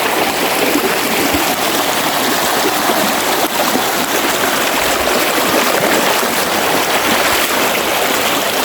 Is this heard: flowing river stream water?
yes